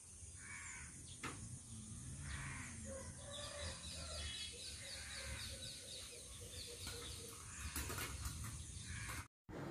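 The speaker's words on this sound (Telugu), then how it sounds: "కోడుల అరుపులతో బాగుందన్నమాట" Roosters crow in the distance outside a shop, their faint, drawn-out calls rising through constant outdoor background noise.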